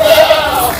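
A single short bleat from a goat in a livestock pen, loud and close, lasting under a second.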